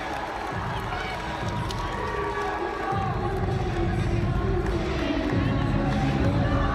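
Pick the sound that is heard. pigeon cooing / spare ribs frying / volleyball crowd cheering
volleyball crowd cheering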